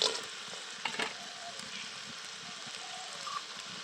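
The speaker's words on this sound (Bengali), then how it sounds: "এবার আমি ভেজে রাখা বড়ি দিয়ে দিচ্ছি।" Fried lentil dumplings (bori) go into tomatoes cooked down in a pan, with a steady sizzle of frying and a few brief stirring knocks. Talk runs faintly underneath.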